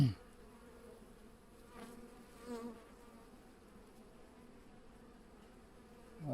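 Soft, steady buzzing of honeybees during queen rearing hums throughout, quiet and continuous, with a brief louder swell midway and no voices.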